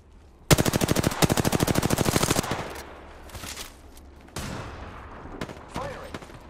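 Rapid automatic gunfire in Apex Legends: a loud, fast burst of evenly spaced shots for about two seconds, followed by scattered distant shots and softer game sounds.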